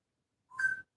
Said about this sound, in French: Sifflement.